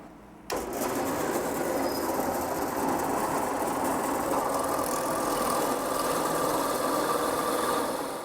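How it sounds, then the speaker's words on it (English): A drill running a 1/2 inch bit through wood, starting abruptly and then holding a steady, loud whirring drone without pause until the end. "We're going to run it through and out the other side with this 1/2 inch bit."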